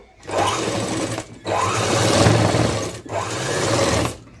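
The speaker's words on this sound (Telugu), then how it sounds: "ఇప్పుడైతే మనం కుట్టి అయితే వేసుకుంటూ వచ్చేద్దాము" Sewing machine stitching a long frock, running in three steady whirring bursts with short pauses between, close and loud with no talk.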